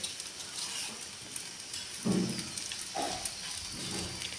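Aloo paratha fries in ghee on a hot pan, a steady soft sizzle with a few louder hissing flares as the bread is pressed and turned.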